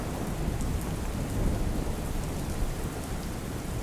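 Heavy rain pours steadily and loudly with deep thunder rumbling beneath it throughout, a dense, continuous downpour during a monsoon storm with flooding in Gujarat.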